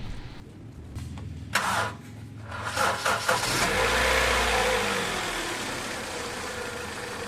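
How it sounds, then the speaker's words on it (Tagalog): A Honda CR-V engine cranks with a few quick starter turns, catches with a brief rev, then settles into a steady idle. "pa-start ko na itong makina"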